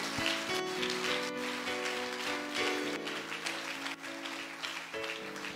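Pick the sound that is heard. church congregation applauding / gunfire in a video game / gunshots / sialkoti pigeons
church congregation applauding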